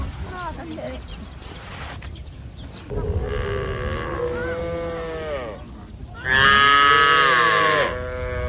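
Cattle among nomads' livestock in the Sahel, several long drawn-out moos, one after another, close and loud, the last the strongest, with a voice speaking between them.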